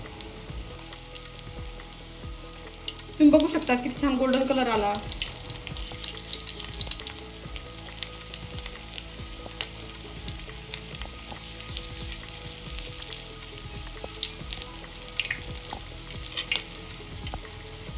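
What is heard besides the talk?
mutton tawa kabab frying in oil on a griddle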